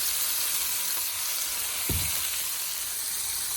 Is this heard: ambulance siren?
no